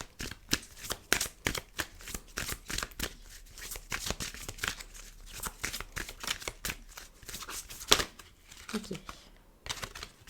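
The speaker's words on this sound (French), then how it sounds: "toutes les cartes sautent" Oracle cards shuffled by hand in a rapid, papery riffle of many quick flicks and slaps across the whole stretch, close and fairly soft, with a brief spoken word near the end.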